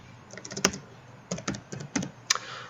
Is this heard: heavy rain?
no